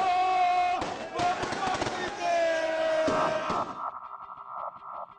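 Inter football fans set off fireworks at a gas station during the 2009 Brazilian championship final, and rapid crackling bangs burst out over a loud, tonal background. Voices can be heard during the bursts.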